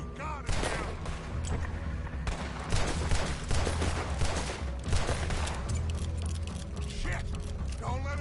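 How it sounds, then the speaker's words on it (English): Rapid gunfire from the video game Red Dead Redemption 2, a loud, continuous barrage of overlapping shots and mechanical clatter that runs the whole time, with voices shouting over it. "Put every bullet you got in him!"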